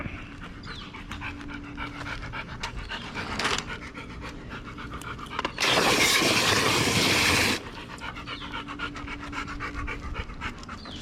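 A dog pants heavily and rapidly nearby in a fast, steady rhythm, interrupted briefly by a burst of running water.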